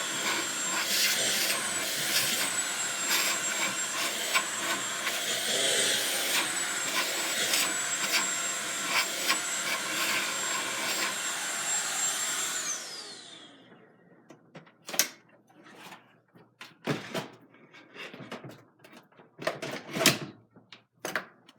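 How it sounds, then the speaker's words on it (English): A vacuum cleaner sucks up debris around EVA foam with a loud, steady whine and rattling for about twelve seconds, then shuts off and winds down, leaving scattered knocks and clatters of handling. "I'm just going to use the vacuum real quick to suck up the area around it."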